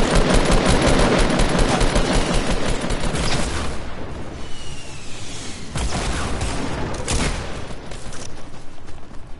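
Rapid automatic gunfire in a squads shooter video game: dense, loud bursts fill the first few seconds, then scattered single shots and short volleys follow over a steady background.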